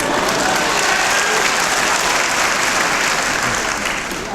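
Audience applause at a university convocation ceremony, a dense continuous wash of many hands clapping from a large crowd, sustained and even throughout, fading slightly at the end.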